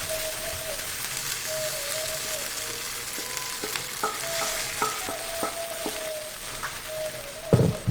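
Curry leaf seasoning fries in a pan with a continuous close sizzle and crackle, and a spoon scrapes and taps the pan now and then.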